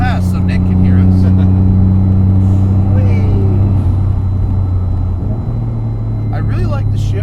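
A modified 1995 Mitsubishi 3000GT VR4 drives past, a loud steady low engine rumble with a shift in tone partway through, and faint voices in the background.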